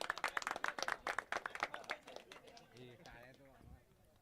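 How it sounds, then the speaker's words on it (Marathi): An audience at a felicitation ceremony during a village sports tournament claps in quick, uneven bursts that fade out, followed by a voice speaking over the end. "एकदा जोरदार टाळ्या झालेल्या पाहिजेत"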